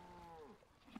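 A single cow moos in the video game Old Market Simulator, a short, fairly faint low call that slides downward and fades, with no talk over it.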